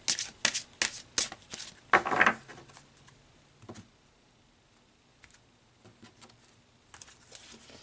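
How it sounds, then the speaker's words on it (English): Tarot cards shuffled by hand, a quick run of crisp riffling flicks up front, then softer intermittent card slides and taps as a card is drawn, close and alone with no talk. "let's pull another card here"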